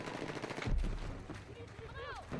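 Gunfire in the Battlefield 6 video game during sniper play, with a single prominent shot around the middle amid game ambience and a rising whistle-like effect near the end.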